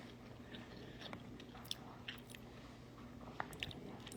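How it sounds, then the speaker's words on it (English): Quiet, close chewing with soft crunches and wet squishes, irregular bites over faint steady background noise. "That piece of chicken I just chewed"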